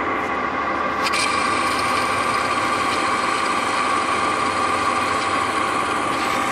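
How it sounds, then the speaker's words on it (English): A big metal lathe running under power feed as it takes a cut on a workpiece, giving a steady, loud, even drone with a faint click partway through. "Okay, now let's take the cut."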